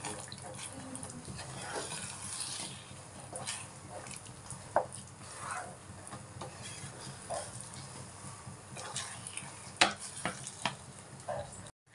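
Sago motichoor laddu mixture with ghee stirred in a pan, a continuous soft scraping and shuffling with occasional clicks of the spoon against the metal, fairly quiet and close.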